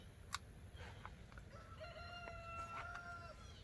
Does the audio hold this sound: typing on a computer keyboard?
no